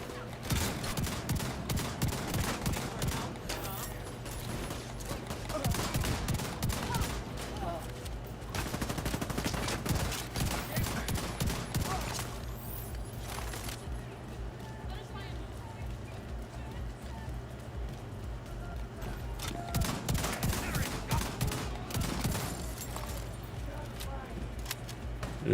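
Rapid automatic gunfire rattles in The Division 2 video game, dense bursts repeating over long stretches with short pauses, while voices talk over the shooting.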